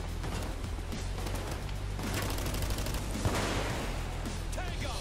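Gunfire rattles from across a street during a Payday 2 heist, a dense, continuous spray of overlapping shots and bursts that keeps up for the whole stretch, loud and busy.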